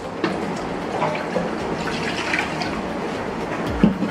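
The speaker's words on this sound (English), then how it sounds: "So first off, we're gonna put 4 cups of water," Four cups of water poured into a cooking tray in a kitchen, a steady close trickling splash with a faint knock near the end.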